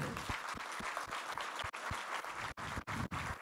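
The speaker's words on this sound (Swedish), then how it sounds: "Vi ger väl henne en applåd, va?" An audience at an autumn association meeting claps for a moderator coming on stage, a full round of applause with a few sharp individual claps and brief dips near the end, fairly faint overall.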